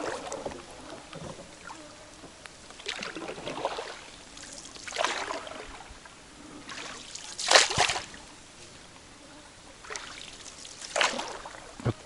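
An aging, partly rotting wooden rowboat moves on water in the taiga, with paddle or oar strokes splashing and dripping at uneven intervals, close and fairly quiet, over soft lapping and no speech.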